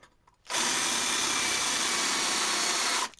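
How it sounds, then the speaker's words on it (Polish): A power drill bores a hole into the plastic housing of a Mercedes W211 headlamp, its loud steady whine starting abruptly and running for about two and a half seconds at close range before cutting off. "Nawiercamy."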